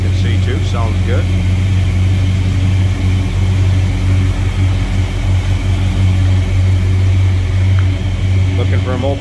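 A 1967 Dodge Coronet 440 two-door hardtop idles smoothly, a steady low rumble with a constant hum that holds through the whole stretch.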